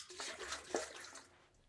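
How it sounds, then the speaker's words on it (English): Water sloshing and swirling inside an ocean harp, a soft, faint liquid wash rolling for over a second with one brief clack in the middle. "this is called the ocean harp. And the secret to it is"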